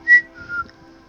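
A person gives a quick, short whistle as a cue to a horse, a brief high note followed by a softer lower one, close by and alone.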